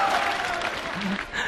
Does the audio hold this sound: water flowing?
no